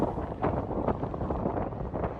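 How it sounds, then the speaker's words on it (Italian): Strong wind buffeting on a dangerous mountain road, with loud gusty roaring rumble in waves across the short stretch and no voices. "c'è un vento pauroso"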